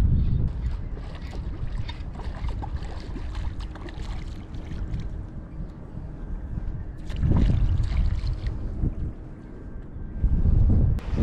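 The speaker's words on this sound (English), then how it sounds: "Man, where'd this wind come from? Go home, wind." Wind buffeting the microphone during saltwater fly fishing on the Hawaii shore, a steady rumbling roar with stronger gusts near the middle and the end, with faint water sounds underneath.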